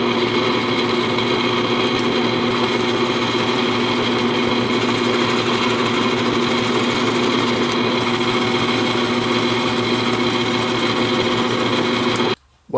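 A drill fitted with a Forstner bit bores into wood for a dowel jig, giving a steady, close, loud motor whine that runs without a break for about twelve seconds and then stops abruptly. No voices are heard.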